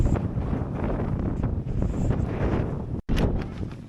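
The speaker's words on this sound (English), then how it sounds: "It's so windy here." Strong wind blusters across the microphone at the Agadir Oufella hilltop in Morocco, a loud continuous rumble with gusts and a brief dropout near the end.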